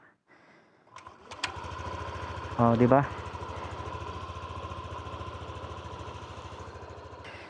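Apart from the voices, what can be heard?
Yamaha Aerox 155 V3 motorcycle engine running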